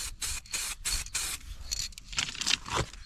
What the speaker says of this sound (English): I'm going to use the same bit of cardboard to sort of mask as I spray